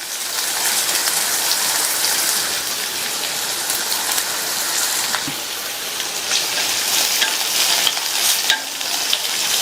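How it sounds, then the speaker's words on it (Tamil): Two whole dried red chilies sautéing in hot oil for a vegetable poriyal give off a steady, dense sizzle with light crackling that continues unbroken throughout, with no talking. "இதை லைட்டாக வதக்கி விட்டுட்டு கறிவேப்பிலை சேர்த்துக்கலாம்."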